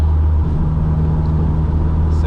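A Mk2 GTS with a 16-valve turbo engine on the road, its loud, steady low engine drone heard from inside the car, holding at a nearly constant pitch throughout.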